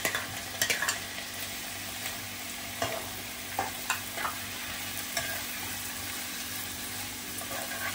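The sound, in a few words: chopped tomatoes added and stirred, frying in pan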